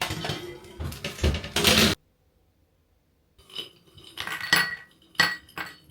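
Metal baking tray of homemade Lucky Charms-style cereal pieces clatters as it is set into a 300-degree oven: a burst of clinks and scrapes, a short silent pause, then more sharp metallic knocks close by.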